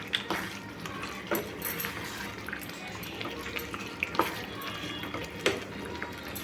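Lentil dumplings (badi) frying in a pan for a Puri temple-style besara dish, a soft continuous sizzle with scattered crackles and pops, quiet, with a voice speaking briefly.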